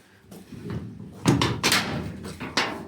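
A welded steel door made of 1/8-inch iron with angle iron on its inner edge swings on a trailer chicken coop, giving several clanks and knocks as it is moved back and forth close by.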